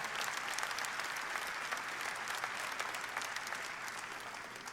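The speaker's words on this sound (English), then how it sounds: "let's give a great round of applause to DJ" Audience applause at the Mr. Olympia 2018 bodybuilding finals, a dense, even wash of many hands clapping, steady throughout and fairly distant.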